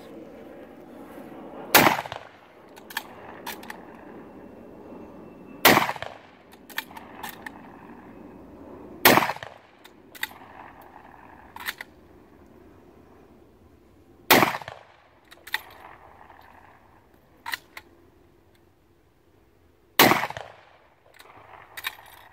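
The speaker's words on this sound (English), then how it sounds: "Put 5 rounds through this." A Lee Enfield No.4 Mk1 rifle fires five rounds outdoors, each a sharp, loud crack spaced several seconds apart, with faint bolt-working clicks between shots and no talking.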